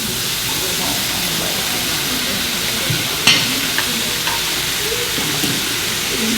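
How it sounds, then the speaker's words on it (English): Vegetables stir-fry and steam in a hot pan, a loud continuous sizzle and hiss with a few sharp clinks and scrapes of stirring partway through. "It's going to help continue by way of stir frying and steaming the vegetables"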